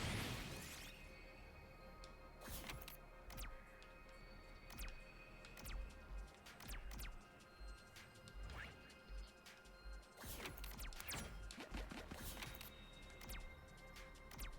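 Glass smashes in the video game The Hundred Line, giving repeated sharp crashes and cracks over a dense, steady game soundtrack. The sound is fairly faint overall, with the crashes scattered unevenly through the passage.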